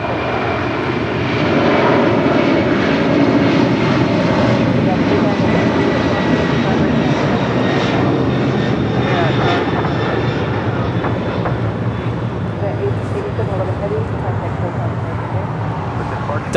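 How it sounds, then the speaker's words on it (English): A Delta Air Lines Boeing 757-300 jet arriving from Atlanta lands at Los Angeles International Airport, a loud sustained engine roar with broad rushing noise, steady throughout and close by. "Delta Airlines Flight 898 coming in from Atlanta, Georgia in the 757-300"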